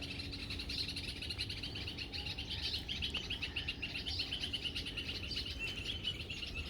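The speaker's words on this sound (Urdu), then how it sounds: "تو یہ جو ہے اوپر بلبلیں شور مچا رہی ہیں" Bulbuls chirp and twitter in dense trees overhead, a continuous busy chorus of high calls, moderately distant and fairly quiet.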